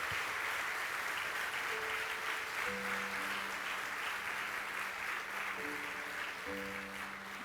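A church congregation applauds during a Spanish-language service, a sustained wash of clapping at moderate distance, with soft sustained musical tones from an organ or keyboard sounding beneath it.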